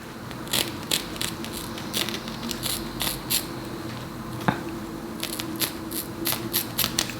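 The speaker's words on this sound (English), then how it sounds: "I cut off my lace before I apply my wigs" Scissors snipping through wig lace, a series of soft, close crisp cuts in an irregular rhythm over a faint steady room hum, no voices.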